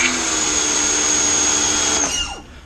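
A Sun Joe electric pressure washer runs with a loud, steady, high-pitched motor whine close by, then winds down sharply near the end.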